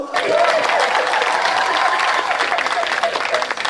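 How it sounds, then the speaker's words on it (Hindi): Audience applause fills a live Hindi stand-up comedy show: a dense, steady burst of many hands clapping with some crowd noise, loud and continuous for a few seconds. "ताली बजाओ, ताली बजाओ।"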